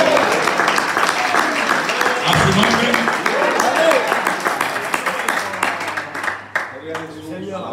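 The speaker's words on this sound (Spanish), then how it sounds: "eso merece un aplauso al Señor" Applause from a church congregation during a Spanish-language sermon, loud and continuous at first and thinning out toward the end, with a voice speaking over it.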